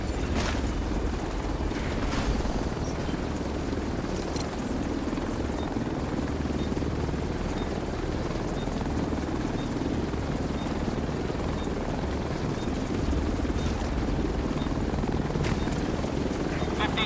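An extraction helicopter arriving in The Division 2 gives a steady, heavy rotor drone that holds throughout, with scattered booms and bursts of gunfire from the game layered over it.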